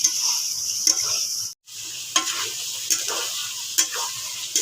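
Elephant foot yam and potato sautéing with yogurt in a pan, giving a steady close sizzle broken by a few spoon stirs and scrapes and one brief gap.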